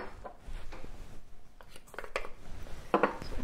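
Oil, spices and garlic stirred in a large bowl, soft scraping and light clinks of a utensil against the bowl, faint and brief, ending in a sharper knock.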